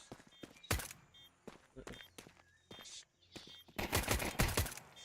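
Sharp bursts of video game gunfire pop in uneven clusters, with a dense rapid volley near the end, mixed with shuffling game noise.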